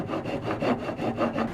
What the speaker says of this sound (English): I'll just use the file to trim it up